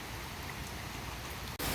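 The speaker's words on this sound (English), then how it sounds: "it's just intensified its rain speed coming down" Heavy rain pours down steadily, a dense, even hiss of drops lasting throughout with a brief cut near the end, no voices present.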